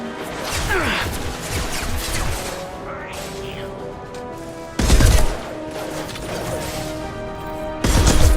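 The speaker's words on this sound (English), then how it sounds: "Firing an impact shot!" Impact shot fired in the video game Mass Effect 2, a heavy crashing blast amid dense game noise, with two sharp loud bursts standing out over continuous combat clatter.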